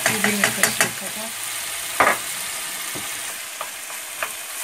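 Tomato paste sautéing in a pan for bulgur pilaf, opening with several sharp utensil scrapes and clinks over a steady sizzle, then a quieter continuous fry broken by a few isolated stirring knocks.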